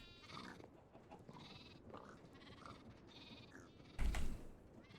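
Energetic sheep in Minecraft SkyFactory 5 bleat several times in short, separate calls, with a louder burst near the end.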